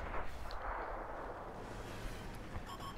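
Artillery shells firing in a video game, a dense, loud roar of blasts and rumbling booms running continuously, with faint high electronic beeps near the end and no speech.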